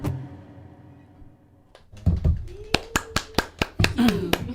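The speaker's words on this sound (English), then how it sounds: "love how we're clapping for ourselves" People on an intern show clap for themselves after singing, starting with scattered claps and then settling into a loud, evenly spaced rhythm of about a dozen sharp hand claps, with voices mixed in.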